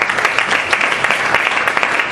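Audience applause during a church sermon, with steady dense clapping from a crowd and fairly close, even and unbroken for about two seconds.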